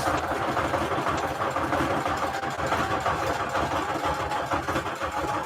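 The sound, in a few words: sewing machine stitching paper strips onto a tag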